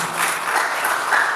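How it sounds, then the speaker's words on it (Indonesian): A church congregation at a Sunday worship service claps together, producing a steady, full burst of applause that fills the room for the short stretch, with no speech over it. "Beri tepuk tangan bagi Tuhan."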